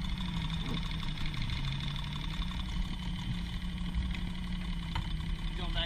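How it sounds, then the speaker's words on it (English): A boat's engine idles low and steady without stalling, a continuous mid-pitched rumble heard close, with people talking over it at a free-diving outing. "This thing idles real low without stalling."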